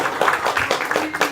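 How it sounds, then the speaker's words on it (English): Audience applause for Guru Maharaj at a house-warming gathering before an initiation ceremony, a short burst of many hands clapping unevenly at moderate distance. "round of applause to Guru Maharaj"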